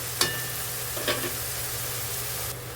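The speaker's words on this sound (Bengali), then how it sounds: "পেঁয়াজ বাটাটাও আমি ভালোভাবে পেঁয়াজের সঙ্গে কষিয়ে নেবো" Onion paste is stir-fried with onions for chicken bhuna, with a steady, moderate sizzle and two short spoon knocks early on, no voices.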